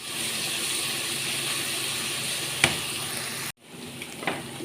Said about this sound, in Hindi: कढ़ाई में मैंने 1 प्याली तेल ले ली है और अब इसके अंदर मैं ऐड करूँगी लहसुन अदरक का पेस्ट।